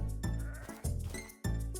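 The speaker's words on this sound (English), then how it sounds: "Got one of each color of sheep." Sheep in the Minecraft video game bleat three times in quick succession, short loud wavering calls close by, with nothing else heard.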